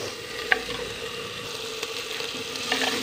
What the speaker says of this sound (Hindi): मज़ीद मैं इसको भूनूंगी